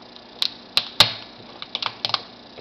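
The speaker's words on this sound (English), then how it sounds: "initially put your scissors down the middle" Scissors snip through a partially frozen lobster tail shell, giving a close series of sharp, irregular clicks and crunches as each joint is cut.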